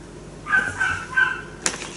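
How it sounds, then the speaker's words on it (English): A dog outside gives a few short whining yips and moans, then one sharp bark, faint and somewhat distant over quiet background. "Cole, what is that dog moaning about?"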